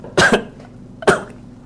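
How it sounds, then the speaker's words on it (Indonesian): Two sharp, loud coughs about a second apart, close to the listener, with quiet background between them. "batuk"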